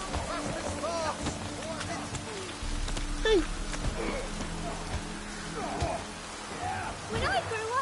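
Steady rain patters in The Witcher 3: Wild Hunt, a continuous hissing downpour running under game voices and occasional footsteps throughout.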